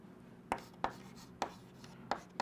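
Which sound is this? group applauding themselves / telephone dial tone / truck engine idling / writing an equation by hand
writing an equation by hand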